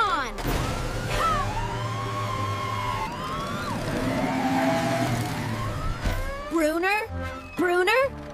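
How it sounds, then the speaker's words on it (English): A cartoonish wailing siren with rising and falling tones from a Robocar Poli rescue vehicle plays over engine noise and excited voices in a lively animated construction-site rescue scene. "Sirens on."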